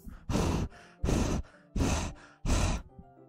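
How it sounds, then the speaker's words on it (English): Four sharp, rasping inhales drawn through the teeth, evenly spaced and close, from a character in the Doki Doki Literature Club video game, with faint breathy tails between each breath. "A sharp inhale, like someone is sucking the air through their teeth."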